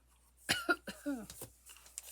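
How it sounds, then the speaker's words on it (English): A few short, dry coughs close to the microphone, quick and raspy, with no talking. "Sorry, I got this little dry cough."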